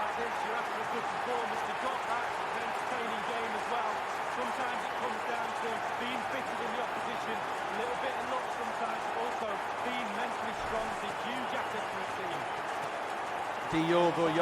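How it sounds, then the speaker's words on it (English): A dense stadium crowd roars and applauds after a victory in an FA Cup quarter-final in the FIFA 20 football video game, a loud continuous wash of cheering that holds steady throughout, with a voice talking over it. "I'm not even going to try and talk over this crowd."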